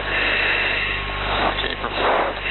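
A T-6 aircraft engine during an engine failure in flight, a loud continuous droning roar with a steady hum, swelling slightly in places, with no talk over it.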